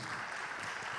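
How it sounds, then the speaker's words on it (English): Applause from an audience at an AI business talk, a steady dense clatter of clapping filling the whole brief second at moderate level. "Round of applause, please."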